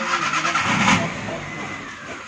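A car engine runs and the vehicle moves off in Ghatal, West Bengal, during a forest department animal rescue, giving a steady, fairly loud broadband rumble that eases slightly toward the end, with voices faintly underneath.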